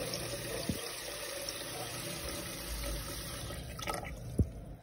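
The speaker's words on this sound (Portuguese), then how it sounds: "eu vou terminar de encher água aqui, até mais ou menos uns dois dedinhos acima" Tap water pouring steadily into a pressure cooker for sweet milk caramel, a continuous close hiss and splash with a couple of brief clinks and knocks of the pot.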